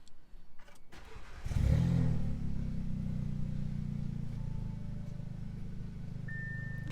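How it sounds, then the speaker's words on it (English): Audi A3/S3 or VW GTI/Golf R engine cranking and catching with a loud burst, then settling into a steady, smooth idle with the AC running, a short beep near the end. "we have to start up the car and make sure we don't have any faults or any misfires or any errors"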